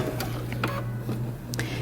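A sewing machine runs along a 5/8-inch seam allowance on a bomber jacket, giving a steady low mechanical hum with a few light clicks, moderately close.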